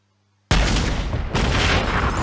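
An explosive tank shell fired by the Thresher Tank in the video game Battle Nations: one sudden loud boom after a moment of silence, then a dense rumbling blast that carries on to the end.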